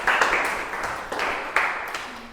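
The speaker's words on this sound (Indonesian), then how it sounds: "tepuk tangan buat kelompok 4" A small classroom audience at MAN 3 Ciamis claps for a student group, a few scattered bursts of handclaps that thin out and fade over a couple of seconds.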